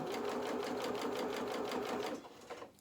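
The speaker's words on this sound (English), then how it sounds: "I'm now going to sew that seam." A sewing machine stitches a seam through dress fabric in a fast, even rhythm of rapid needle strokes, then slows and stops near the end.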